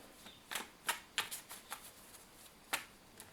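Tarot cards being shuffled and drawn during a love reading, heard as a string of crisp, close flicks and snaps of card stock, a few sharper slaps standing out, with no voice over them.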